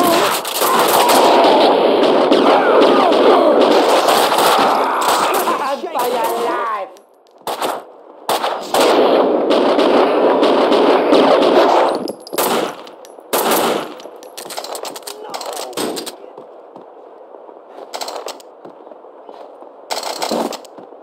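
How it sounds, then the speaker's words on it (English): Bursts of gunfire in the video game Max Payne 2, loud rapid volleys that stop and restart several times across about twenty seconds, with sharp isolated shots between the longer bursts. "Someone must have heard the gunfire."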